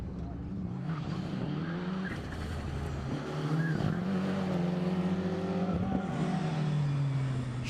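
Ford Focus 4x4 rally car engine at a racing circuit, a loud sustained rising and falling drone through a hairpin turn, with a commentator's voice running over it.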